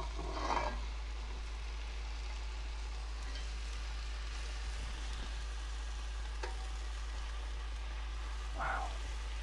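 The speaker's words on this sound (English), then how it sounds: "we're going to add the beef and the bacon back in with all of its juices." Beef and bacon with their juices sizzle and fry in a pan for beef burgundy, a steady soft crackle with a few brief stirring scrapes over a low hum.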